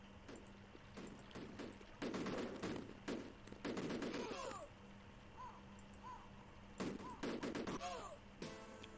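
Gunfire in the video game Cannon Fodder: rapid bursts of small-arms shots in clustered volleys, with short chirping effects between them and the bursts returning near the end.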